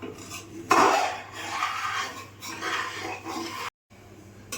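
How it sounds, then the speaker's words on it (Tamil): Milk being stirred in a pan while cooked down into palkova, with a spoon scraping and clinking against the metal in steady, close strokes, a short pause near the end. "கிண்டிகிட்டு இருக்காரு பாலை"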